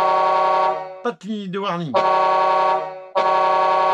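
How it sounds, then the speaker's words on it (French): Horn of a Volvo FH16 6x4 truck with a thin, girlish tone: a long steady blast, then a short break where someone speaks in French, then the horn sounds again and holds to the end. "J'ai que le klaxon."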